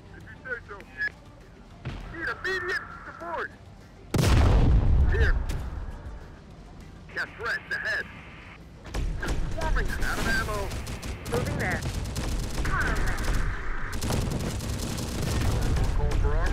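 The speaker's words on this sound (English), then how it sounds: "This artillery is starting to piss me off." Artillery fire booms and bursts of gunfire erupt in Terminator: Dark Fate Defiance, with heavy blasts and rattling volleys recurring across the stretch alongside game effects and someone talking.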